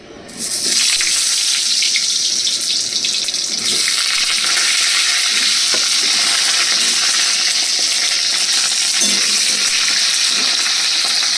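Pieces of pointed gourd (potol) hit hot oil for a vegetarian Bengali dish, setting off a loud, steady sizzle that starts abruptly and carries on unbroken to the end, with no talking.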